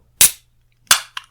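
A Schweppes tonic water opened with two sharp cracking hisses a little over half a second apart, then a short fainter pop, close and loud with no talk.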